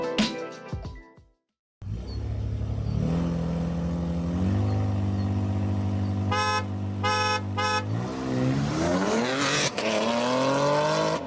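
A BMW G80 and a Corvette C8 drag racing at the season's first race: a brief quiet gap, then sustained loud engine roar with rising revs and gear changes, honking bursts mid-run, and high-pitched whine as the cars accelerate away.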